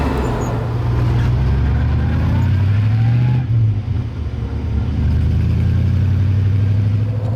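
A Daimler Dart SP250 sports car's engine accelerating from inside the cabin, a loud, steady drone rising in pitch as revs build, a brief dip around a gear change, then pulling strongly again with road noise.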